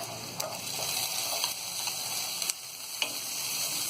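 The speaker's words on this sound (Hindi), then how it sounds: "तो इन चीजों को हम हल्का सा नरम होने तक फ्राई करेंगे" Garlic and ginger fry in a pan, giving a steady close sizzle throughout with a few light stirring clicks and taps on top.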